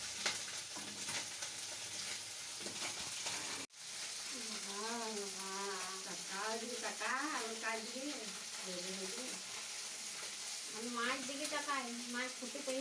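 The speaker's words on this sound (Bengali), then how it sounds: "মাছ ভাজছি, খাবেন তো আসুন।" Fish fry in hot oil in a pan, giving a continuous close sizzle and crackle through the whole stretch, broken by one brief dropout. A person talks over the frying in bursts.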